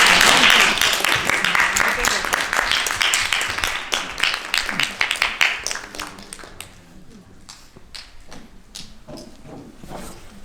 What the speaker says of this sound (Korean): 다 같이 박수로, 큰 박수로 환영해 주시면 감사합니다.